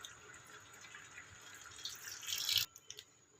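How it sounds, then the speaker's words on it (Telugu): A glass of water is poured into fish curry in a pot, a short, faint splashing trickle that swells briefly then stops, heard up close in a quiet kitchen. "దీంట్లో కొంచెం 1 గ్లాస్ వాటర్ పోసుకుందాం."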